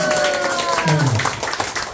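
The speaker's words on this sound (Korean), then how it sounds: "여러분 용금의 반장에게 뜨거운 감사의 박수" An audience clapping for the class president at a laughter-therapy gathering, scattered close-up claps that build into brief applause, partly under a voice talking.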